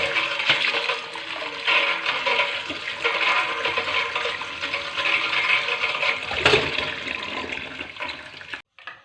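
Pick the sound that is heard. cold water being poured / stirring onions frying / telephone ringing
cold water being poured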